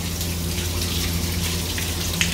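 Hot water spraying over a tank, a steady close hiss of falling water with fine splashing and a low hum underneath.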